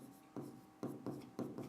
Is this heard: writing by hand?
yes